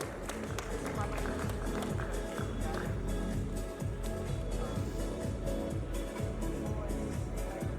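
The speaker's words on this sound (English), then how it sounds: "Big round of applause." Awards ceremony audience in a large hall breaks into a round of applause, a dense continuous wash of many hands clapping, steady and loud throughout with crowd noise and voices mixed in.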